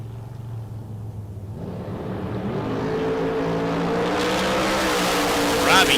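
A 1967 Nova drag race car makes a pass at the K&N Spring Fling Million, its engine roar building steadily and loud over a few seconds amid crowd and track noise.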